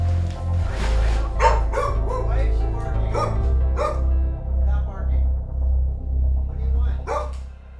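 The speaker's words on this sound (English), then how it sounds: "What are you barking at?" A dog barks repeatedly indoors, sharp yips and whimpering barks scattered over a low rumbling hum, while a person talks in between.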